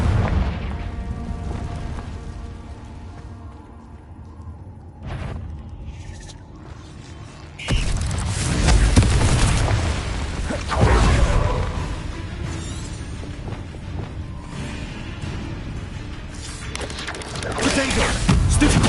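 A Confringo explosion spell is cast in Hogwarts Legacy, with sudden loud booming blasts and crackling bursts over a rumbling game ambience and intermittent voices.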